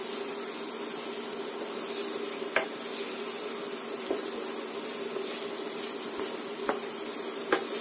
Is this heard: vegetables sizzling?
yes